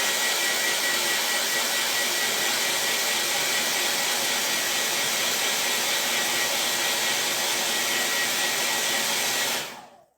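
A hair dryer blows steadily to dry the corner of a crafted bunny decoration, a loud, close, unbroken roar that cuts off abruptly at the end.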